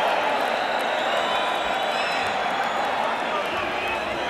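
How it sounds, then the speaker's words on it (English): An arena crowd at the Mike Tyson versus Steve Zouski boxing match keeps up a dense, steady roar of applause and cheering, a continuous wash of clapping with no pauses. "the crowd is applauding the courage of Steve Zouski as much as they're applauding the efforts of Mike Tyson"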